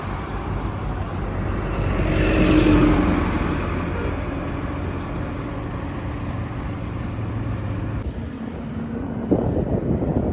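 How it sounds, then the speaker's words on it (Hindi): Traffic on an airport road heard from a moving bicycle, a steady wash of vehicle engines and tyre noise with one louder vehicle swelling past, wind rumble throughout and a brief knock near the end. "तब तक तुम ट्रैफिक देखो"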